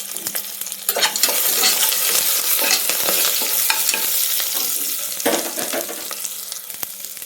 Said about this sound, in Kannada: ಹಸಿಮೆಣಸಿನಕಾಯಿ, ಪಲಾವ್ ಎಲೆ, ಸಾರು ಮೆಣಸು ಇದನ್ನು ಫ್ರೈ ಮಾಡಬೇಕು.